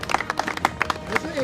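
An audience at a public political debate claps in scattered, uneven bursts of sharp slaps, with a voice talking over the clapping.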